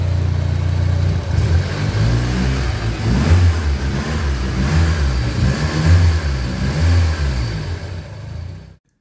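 A turbocharged Honda Civic D-series VTEC engine revs up and down repeatedly, rising and falling in pitch, loud and close, then cuts off abruptly at the end.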